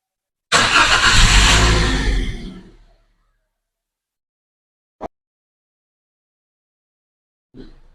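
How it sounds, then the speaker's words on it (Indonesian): A Toyota Calya / Daihatsu Sigra engine, just after an oil and filter change, fires up loudly and roars for about two seconds before dying away into silence, followed by a couple of brief clicks. "Sekarang kita nyalakan mesin."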